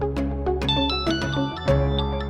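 An office call comes in as a phone ringtone plays a bright, repeating melodic pattern of quick tones, loud and close with no voices over it.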